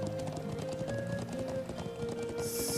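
Horse hooves clip-clopping in the video game Trails of Cold Steel, a quick regular patter of hoofbeats over a sustained in-game music tone, with no talk.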